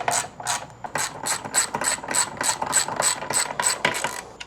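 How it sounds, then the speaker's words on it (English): A ratchet fitted with a 10mm socket tightens a bolt while a Shad case is fitted to a Moto Guzzi V100 Stelvio. About a dozen quick, crisp, close clicks come in a steady back-and-forth rhythm. "Get the 10mm socket with the ratchet and get it tight."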